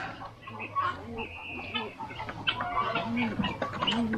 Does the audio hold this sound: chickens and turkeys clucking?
yes